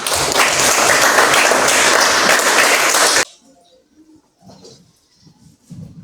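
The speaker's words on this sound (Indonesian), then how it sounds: "Tepuk tangan untuk kita semua" Loud, dense classroom applause from a group of students, sustained for about three seconds and then cutting off sharply into a near-quiet room with faint murmurs.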